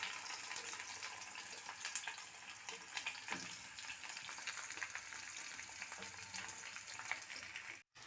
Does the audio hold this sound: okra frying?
yes